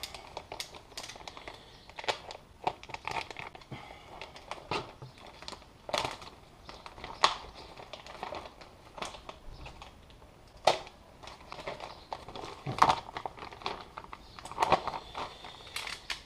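A vacuum-sealed plastic package being cut open gives a quick run of sharp crinkling and snipping ticks, close and fairly quiet, with no talk.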